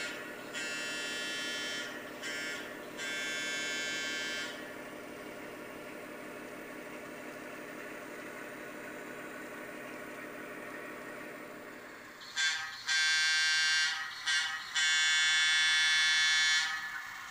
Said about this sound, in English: Just appearing from behind the Selgar Mill is the pusher set from Farron